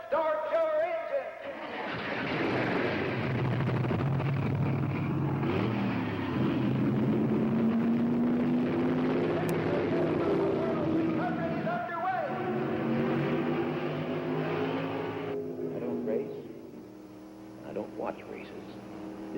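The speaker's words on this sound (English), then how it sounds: "Gentlemen, start your engine!" NASCAR stock car engines fire up and rev at a speedway, a loud, dense roar with rising and falling engine pitch that holds steady throughout before easing off near the end.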